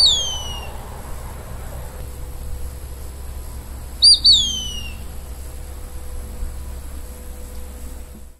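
A Mississippi kite gives thin, high, downslurred whistles, one near the start and a doubled call midway, sounding clear above a soft steady hiss.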